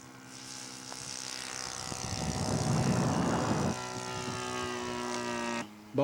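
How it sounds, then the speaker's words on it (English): Scale model aircraft powered by a Laser 70 engine with a 14-inch propeller, its engine drone swelling as it passes close and loud at an air show, then fading to a steadier hum as it moves away. "I got a Laser 70 engine in there for power."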